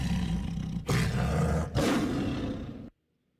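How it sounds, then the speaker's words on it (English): A lion's roar, loud and close, in three sustained growling bursts separated by brief gaps, ending abruptly in silence. "That sounds like a lion. Like a jungle cat."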